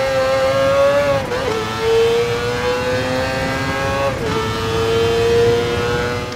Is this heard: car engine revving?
yes